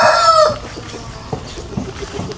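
Three escaped roosters outside their cages, one crowing loudly at the start, then scattered clucks and fowl calls from nearby poultry over steady outdoor background noise.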